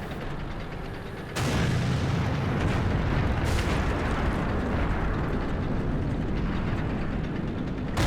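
In the World of Tanks video game, an artillery shell slams into a tank with a sudden heavy boom, then dense battle rumble and scattered blasts continue loudly for several seconds. No one talks.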